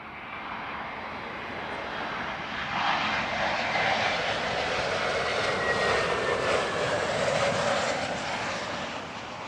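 A Turkish airliner on landing approach at Heathrow roars overhead, its engine noise building and holding as a broad, loud rush with a whining tone, then easing slightly toward the end.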